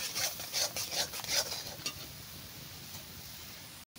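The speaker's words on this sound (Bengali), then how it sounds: "আর আমি তালটা গুলিছি একদম গাঢ় করে।" Palm fruit pulp is stirred into a thick batter in a hot wok, giving soft, wet scraping and swishing strokes that are busiest early on and then settle into a quieter steady rub.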